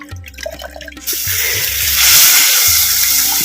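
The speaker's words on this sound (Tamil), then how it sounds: "கால் லிட்டர் தண்ணியில் நெல்லிக்காய் சைஸு புளியம்பழத்தை கரைச்சி இப்போ நம்ம சேர்த்துக்குவோம்" Tamarind water is poured into a pan of fried masala for a vegetarian banana-flower fish-style curry, a steady rushing splash of liquid that follows a few brief clinks and continues loud and close.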